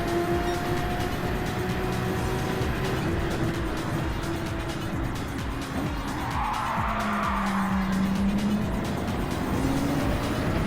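A race car engine drones steadily through a turn in the Gran Turismo 7 video game, with a brief tire squeal and skid midway and the engine pitch sliding as it corners; no voices.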